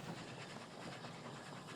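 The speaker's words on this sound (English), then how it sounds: "I put a spark in here to drive the train" Train rolling along rails in the factory-building video game Oddsparks, driven by a spark: a faint, steady rumble with soft hiss and rhythmic rail clatter, heard alone.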